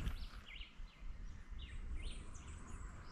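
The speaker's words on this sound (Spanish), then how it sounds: "¿Escuchan los pájaros?" Several birds chirp and sing in short high phrases over a soft outdoor background, fairly faint and distant.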